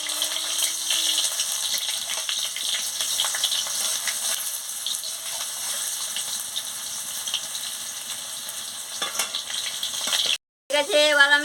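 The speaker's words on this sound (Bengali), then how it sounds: "আমি ঢেঁড়সটা দিয়ে দিচ্ছি, দিয়ে ভালো করে ভেজে নিচ্ছি" Okra frying in hot oil in a wok sizzles steadily up close while being stirred with occasional scraping, ending in a brief gap and a short clattering burst.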